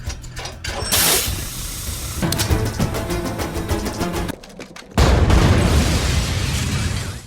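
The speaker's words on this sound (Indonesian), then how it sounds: "ledakan pun terjadi." A house blowing up from a gas leak in a Jason Bourne action film, with loud bursts and booms, a rumbling blast and ongoing roar, cut between sharper impacts and a brief lull.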